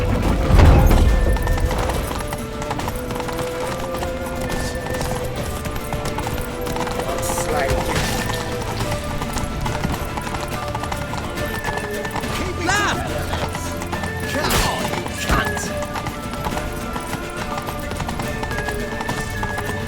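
Galloping horse hooves in The Witcher 3 pound in a fast, continuous rhythm through a chaotic escape, mixed with shouting voices, game music and occasional loud impacts.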